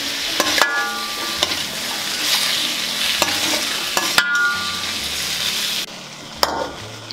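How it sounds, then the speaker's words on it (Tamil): Onions, tomatoes and green chilli sauté in a pan for a paneer gravy, giving a steady close sizzle broken by sharp spatula scrapes and taps against the pan at irregular intervals, with no speech. "இப்போ தக்காளி வெங்காயம் எல்லாமே வதங்கட்டும்."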